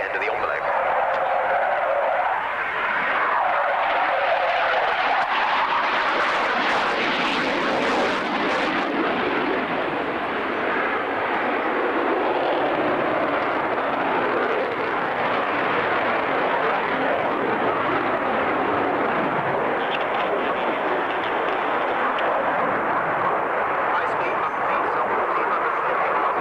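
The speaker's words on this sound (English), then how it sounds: "On the power of two Turbo Union RB199 engines." A jet aircraft powered by two Turbo Union RB199 engines roars past at the 1993 Coningsby Airshow, a loud, sustained broadband rumble that swells and shifts in tone throughout, with speech audible under the engine noise.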